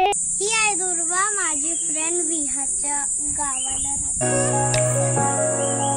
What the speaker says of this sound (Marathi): एवढ्या दिवसा सुद्धा रातकिड्यांचा केवढा आवाज येत होता बापरे.